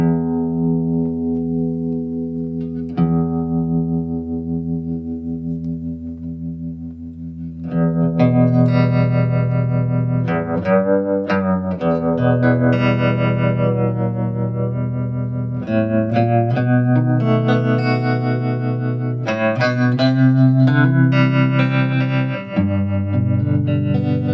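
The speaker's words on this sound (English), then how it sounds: "in this case here we have tremolo" An electric guitar plays chords and melodic phrases with a pulsing, wavering volume effect, steady and fairly loud with no voices.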